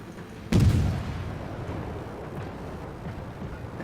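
A single heavy naval gun salvo booms out in World of Warships, a deep blast that rolls into a long fading rumble over steady ship ambience.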